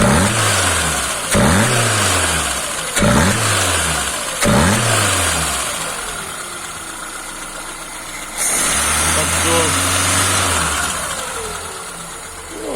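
An Opel Vectra's 1.8-litre engine with a Solex carburetor revs repeatedly in short bursts, then falls back to a steady idle, loud and close, with no talking.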